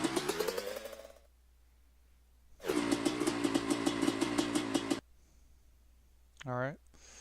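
Motorcycle engine sound from the MX Bikes racing game, heard in separate short bursts: a steady buzzing tone, a gap, a louder sustained section, then a brief rising and falling rev at the end.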